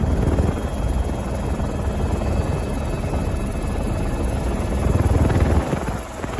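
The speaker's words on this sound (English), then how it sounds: "The helicopter footage from Switzerland." A helicopter flies over a flash-flood area in Switzerland, its steady rotor thump and engine drone loud and continuous throughout, with no voices.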